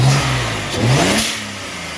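A BMW E92 335i engine revs up, its pitch rising and falling in a quick surge, loud and close, with no talking.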